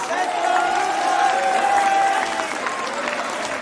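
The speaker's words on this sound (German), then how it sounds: "Und jetzt noch einmal von der Crowd Applaus für das vielleicht letzte Match des Tages." An audience at a Smash Bros grand final between a Shulk player and a Peach player at DoKomi 2019 claps steadily for several seconds while a commentator keeps talking over the applause.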